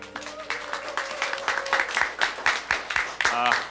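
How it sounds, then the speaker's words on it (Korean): Classroom applause for a student, with claps running steadily through the whole stretch at moderate level, mixed with voices and background chatter from the room. "모두 지수에게 박수!"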